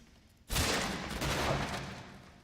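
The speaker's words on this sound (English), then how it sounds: "I hit the microphone, didn't I?" A streamer's microphone is accidentally struck while playing Resident Evil Village, a sudden loud thump that erupts after a quiet moment and rumbles on for about a second before fading.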